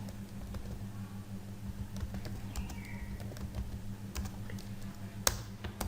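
Fingers type an address on a computer keyboard running Tally accounting software, giving quiet, irregular clicks over a steady low hum, with one sharper key tap near the end and no talking.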